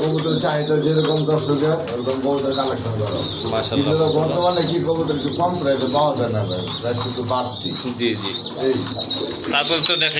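Many pigeons at a busy pigeon market coo in overlapping low calls, with occasional chirps, steady and close, while people talk nearby.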